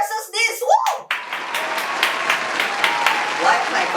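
Someone claps by hand after voices and exclamations at the start, a series of sharp, evenly spaced claps close by that carry on alone for several seconds.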